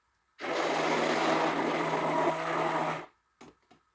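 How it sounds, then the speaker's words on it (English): An immersion blender mixing lye solution for soap whirs steadily for under three seconds at close range, then cuts off, followed by two brief clicks. "get this to mix faster with the immersion blender."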